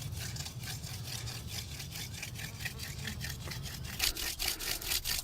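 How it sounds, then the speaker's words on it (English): A drill bit bores into soft soapstone for jewelry, giving a steady, close gritty grinding with a rhythmic scraping pulse that grows louder and more uneven near the end. "Soapstone is much softer than argillite, so this should drill in pretty quick."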